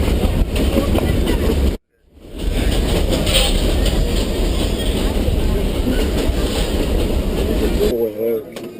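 A passenger train without a restaurant car runs on its rails with a loud, continuous rumble and rattling clatter. The sound cuts out briefly near the start, then returns, with a muffled voice at the very end.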